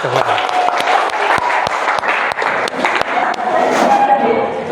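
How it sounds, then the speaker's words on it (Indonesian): Students in a classroom applaud with dense, close clapping that carries sharp individual claps throughout, mixed with voices talking underneath. "Oke, tepuk tangan dulu."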